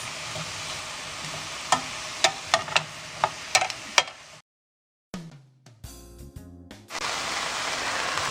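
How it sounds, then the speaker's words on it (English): Vegetables for a paella softening in a hot pan, with a steady loud sizzle and a series of sharp spoon scrapes while being stirred, a brief break, then clattering stirring and the sizzle returning. "Just give these a stir."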